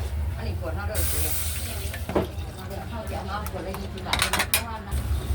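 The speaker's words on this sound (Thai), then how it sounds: "แล้วก็ใส่น้ำเติมน้ำไปเลยครับ" Water poured into a pan of Thai curry paste being toasted over low heat for a chicken jungle curry, a splashing pour with scraping, clinking utensil and pan sounds, close and moderately loud.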